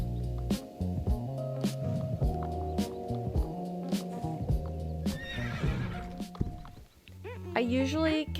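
Salem, a stallion horse, walks with steady clip-clopping hooves at close range, joined by loud neighs and whinnies; a voice talks over the sound.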